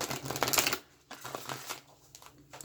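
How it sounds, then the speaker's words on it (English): An oracle card deck shuffled against a leg gives a soft riffling flutter, two short bursts of brisk rustling close to the ear, muffled rather than sharp. "I'm just going to shuffle it on my leg here first, so that it's not as loud as it would be against the table"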